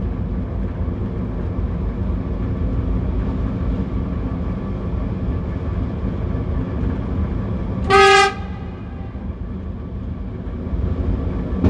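A passenger train passes on the right, heard from inside a train cab on the Bydgoszcz–Inowrocław line: steady loud rumble of the running train throughout, with one short horn toot partway through.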